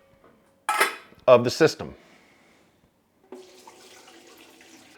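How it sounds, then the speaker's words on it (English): Untreated water is poured into the top chamber of a ProOne gravity filter: two loud splashing, clattering pours, then a quieter steady trickle, with a brief spoken phrase. "So I'll pour the untreated water I just collected into the top chamber"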